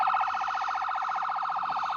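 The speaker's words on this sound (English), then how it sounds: "I wish he'd turn that siren off" An ambulance siren wails nearby beside a crowd crossing the road at the 2022 People's Convoy in the USA. It is a fast, steady warbling tone that continues unbroken.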